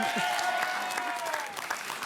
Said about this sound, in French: Faut l'applaudir.